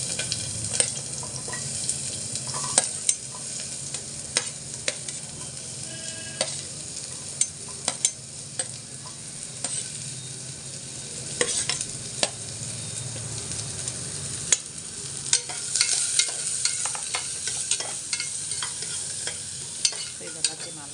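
Shallots and garlic sauteing lightly in ghee for a chicken soup, a continuous close hissing sizzle with frequent scraping and tapping of a spoon stirring the pan throughout.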